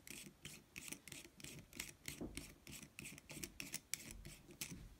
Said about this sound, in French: et là, je dévisse